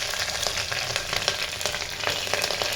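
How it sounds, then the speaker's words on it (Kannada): Mustard seeds, curry leaves and green chillies sputter in hot oil for a tempering, making a dense, close sizzle full of quick pops and crackles that never lets up. "ಸೊ ಇವಾಗ ಒಗ್ಗರಣೆ ಹಾಕ್ಕೊಂಡ್ಬಿಡ್ತೀನಿ. ತುಂಬ ಈಸಿ. ಸಾಸಿವೆ, ಕರಿಬೇವು, ಹಸಿಮೆಣಸಿನ್ಕಾಯಿ"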